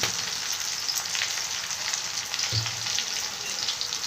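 Ginger garlic paste sizzles in oil in a pan, a steady close frying crackle with a brief stir partway through.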